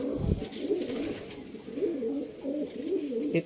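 Pigeons coo in a steady run of soft, throaty phrases close by, with a brief low thump near the start and faint background hiss.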